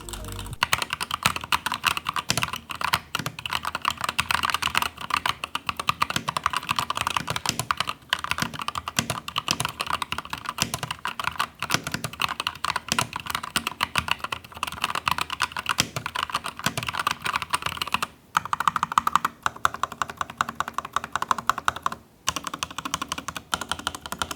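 Continuous clacky typing on a Lofree 1% Transparent mechanical keyboard, close and steady with brief pauses, a dense rhythm of key presses throughout.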